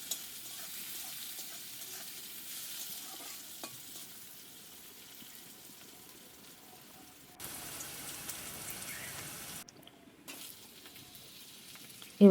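Onion fries lightly in oil with a faint, soft, continuous sizzle close by. The sound drops out briefly near the end before a short loud bump.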